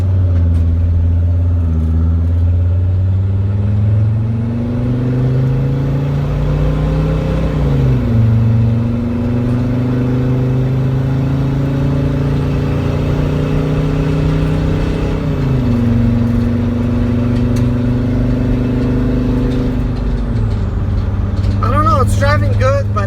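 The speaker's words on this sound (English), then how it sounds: "Let's see the max acceleration this time." A Mercedes Sprinter van with a turbo under-boost fault (code P0299) accelerates hard, its engine drone climbing steadily in pitch and dropping back at each of three gear shifts over about twenty seconds, loud and close throughout.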